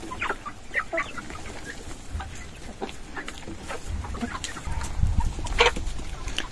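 Old hens on a village farm in Belarus clucking and chattering close by, overlapping irregular calls with a busier stretch toward the end.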